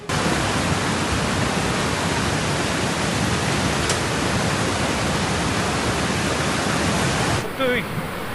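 Flash-flood river water in Solok, West Sumatra rushes in a loud, steady, dense roar that fills the scene almost without pause, cutting off near the end as faint voices come through.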